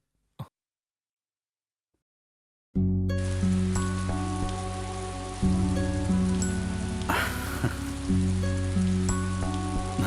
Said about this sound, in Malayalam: മഴ കൂടുവാണല്ലോടാ.